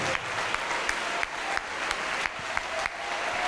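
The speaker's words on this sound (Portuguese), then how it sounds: "Vamos aplaudir ao Senhor Jesus." A church congregation applauds together in steady, dense clapping that fills the room, with a few brief dips and louder swells throughout.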